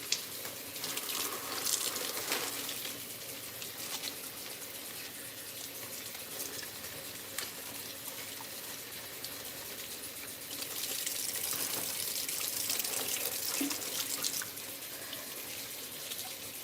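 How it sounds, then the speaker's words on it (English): Running tap water rinses freshly harvested collard greens, a steady close gush with slight splashing shifts as the leaves move under the stream, with no voices. "I'm just about to finish rinsing this, and then we'll start removing the stalk."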